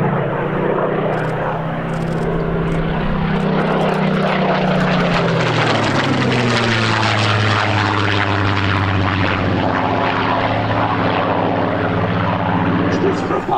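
A Griffon-engined Spitfire FR.XIV makes a low pass at an air display at the Shuttleworth Festival of Flight, its loud, rough piston-engine roar holding steady and then dropping in pitch as it sweeps past close by.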